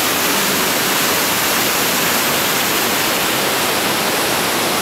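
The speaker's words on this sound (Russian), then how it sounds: "Классный водопад? Мощный такой, да? Громкий." Probiy waterfall at Yaremche in the Carpathians of Ukraine, roaring as a loud, continuous, close rush of falling water that fills the whole stretch with no talk.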